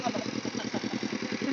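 A tractor working a rice paddy being prepared for planting chugs with a steady, rapidly pulsing engine rhythm, moderately close and continuous throughout.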